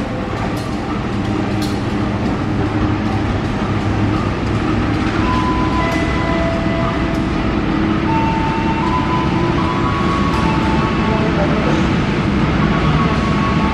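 Bangun Karta long-distance train from Jombang hauled by a CC 204 diesel locomotive, arriving on track 4 at Jatinegara station, Jakarta; a steady, loud rumble of rolling wagons and engine drone continues throughout with faint station chatter.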